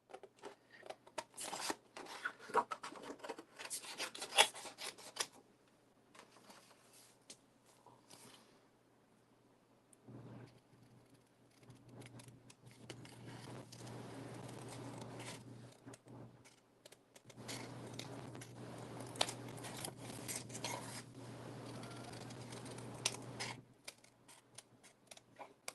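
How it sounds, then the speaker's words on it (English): Scissors trimming a paper sentiment for a card, a series of close, quiet snipping and crisp paper rustles in bursts, with a low steady hum underneath and short pauses between cuts. "it's just as easy to use my scissors."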